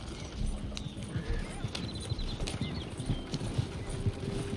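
Horse hooves clip-clopping while riding in Red Dead Redemption II, a steady trotting rhythm under spoken dialogue, with occasional faint higher sounds over a quiet outdoor backdrop.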